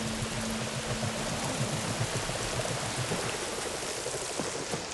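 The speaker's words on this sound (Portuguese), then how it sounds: "Tá chovendo, hein?" Steady, dense rain in the video game Horizon Forbidden West fills the whole stretch, a constant wash of patter with a faint low tone running underneath early on.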